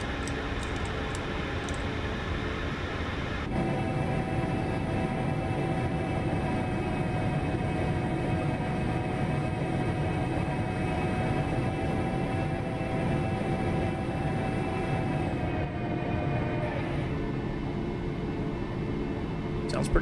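Simulated airliner jet engines at throttle in a flight simulator, a steady loud broadband roar with tonal whine that steps up in intensity early on and holds continuously, with some talk over it.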